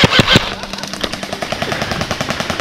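An airsoft gun fires full auto during an outdoor game, a rapid, evenly spaced burst of sharp close pops lasting a couple of seconds, preceded by a few louder bangs and rustles.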